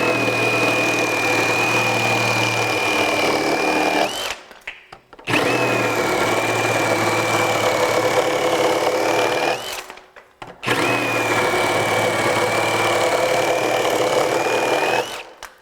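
A RIDGID 18V brushless reciprocating saw (R8647) with a pruning blade, set to orbital, cuts through sappy pine in three long, loud buzzing bursts of about five seconds each, separated by brief pauses. No one speaks.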